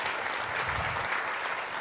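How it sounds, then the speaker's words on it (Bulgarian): An audience at a software testing talk gives a speaker a round of applause, continuous close clapping from many hands with no talk over it. "Аплодисменти за него."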